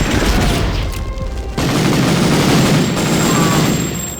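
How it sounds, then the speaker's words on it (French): Gunfire in a Medal of Honor remake video game on a snowy mountain pass, a loud continuous barrage of shots and blasts filling the whole stretch with no talking. "le gars, il a tiré un peu trop près du mur et il s'est pris le tir en fait"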